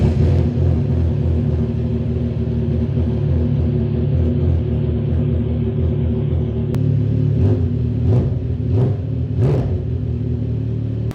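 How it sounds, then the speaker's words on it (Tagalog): A motorcycle engine runs at a steady idle, a low close rumble, then is revved in several quick throttle blips that rise and fall. "Tapos buksan natin yung motor."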